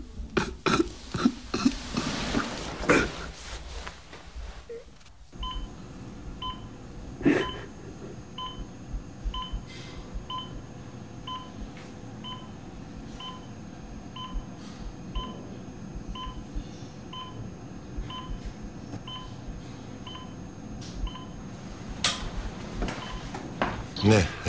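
A telephone is dialed during a tense scene, a run of evenly spaced short beeps heard behind room noise after some early clatter and voices.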